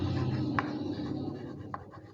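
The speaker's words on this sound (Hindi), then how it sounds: "अब यहाँ पे लिखेंगे कि सक्सेसफुल" Writing on a board with a marker or chalk during a math lesson, giving soft scratchy strokes and a couple of sharper taps, fairly close, with no speech.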